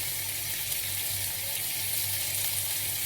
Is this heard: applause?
no